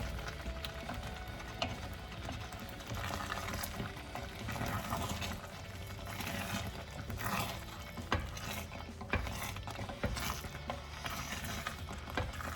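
A spoon scrapes and stirs thick ube halaya in a pan over the lowest heat, with steady soft scraping strokes and a faint bubbling, sizzling background throughout.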